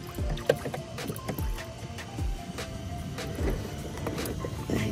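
Pedal-driven Jackson fishing kayak moving against the current at tide, rhythmic creaks and soft thumps from the pedal drive repeating about once a second beside gentle water sounds.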